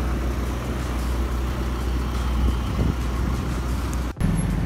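A Ferrari 288 sports car drives by on a Monaco street, a steady close engine rumble over traffic noise with a brief dip near the end before the sound resumes.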